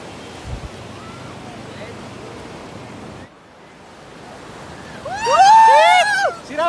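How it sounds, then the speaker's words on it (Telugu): Surf washing in at a beach, a steady broadband roar of waves that dips briefly midway, while a voice speaks over the wash near the end. "బీచ్"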